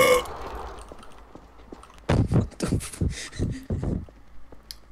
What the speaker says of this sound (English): I needed to burp.